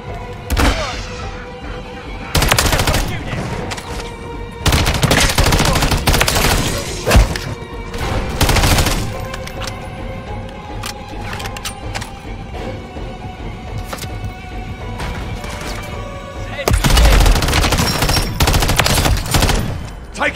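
Heavy automatic gunfire in Call of Duty: Modern Warfare 3 Zombies, loud sustained bursts and thudding fusillades with brief lulls, a heavy volley returning near the end.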